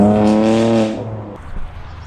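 A 2018 BMW M2 Competition fitted with a carbon wing, its engine note a loud, close, harmonic drone that holds for under a second before cutting off, followed by a faint low rumble and brief rustle.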